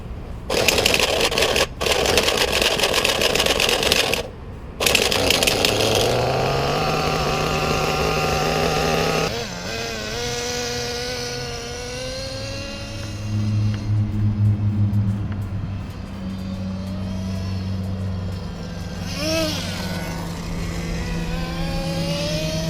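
An HPI RS4 nitro RC car engine, revived after a couple of years in storage, runs loud and buzzing, cutting out briefly twice early on, then revving and shifting pitch through its gears before settling to a steadier, slightly softer drone.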